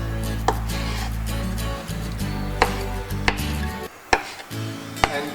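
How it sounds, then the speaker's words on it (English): Knife slicing through boiled eggs for potato salad, several sharp, distinct cuts against a board at irregular intervals, close and clear over a low steady hum. "Just gonna cut up my eggs."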